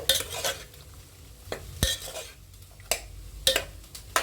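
A spoon scrapes and taps against a pan as fresh curry leaves go into ash gourd buttermilk curry, giving sharp intermittent metallic clinks over a faint background of gentle cooking, with no talk.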